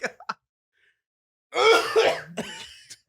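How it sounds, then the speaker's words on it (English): A person coughs with a dry, heaving cough at close range: a couple of short coughs, then a longer strained retching burst and a final rasp, with nothing else heard. "You got a dry heaving cough."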